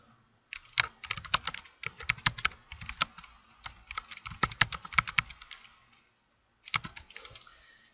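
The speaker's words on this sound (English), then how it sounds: "You type in your question here." Quick bursts of computer keyboard typing as a multiple-choice quiz question is entered, close and crisp, with uneven rhythmic clatter, a brief pause near the end, then more keystrokes.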